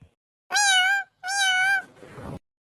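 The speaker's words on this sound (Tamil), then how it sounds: "என்னடா ஒரே பூனை சத்தம் கேட்குது" A cat meows twice in clear, close, drawn-out calls, followed by a softer breathy trailing sound, with no talking around it.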